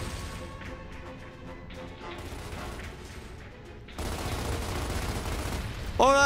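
Gunfire and mechanical clatter from the video game Gears of War Ultimate Edition, with sporadic bursts and impacts, a louder dense stretch in the second half and a sharp whining effect at the end.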